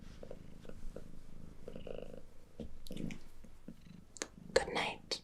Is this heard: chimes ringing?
no